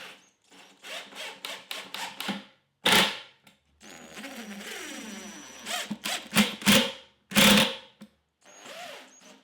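Plywood cabinet parts for a mid-century modern end table are tacked together with 1.25 inch nails. The sharp, separate impacts come in quick bursts with quiet gaps between them, close and fairly loud.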